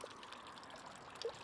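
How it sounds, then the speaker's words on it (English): A towel soaked in rinseless wash is wrung out beside a hot Subaru Forester STI, giving a faint, steady trickle and dribble of liquid that ends in a brief louder squeeze near the finish. "you want to wring this out"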